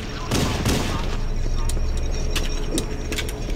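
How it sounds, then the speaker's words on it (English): Gunfire against Flood enemies in Halo CE: several sharp shots in quick bursts under steady game noise, with someone talking at the same time. "Since I have the time, might as well shoot these guys."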